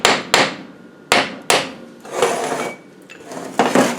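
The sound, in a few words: hammering a chisel on a steering box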